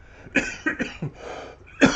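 Several short, dry coughs from one person, close by, in a quick irregular cluster with a final harder cough after a brief pause.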